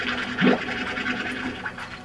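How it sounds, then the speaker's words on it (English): A vacuum tool sucks up slime poop in the Slime Rancher video game, giving a steady whooshing suction with a brief louder gurgling slurp near the start, heard alone without talk. "Gotta vacuum up all the poop now"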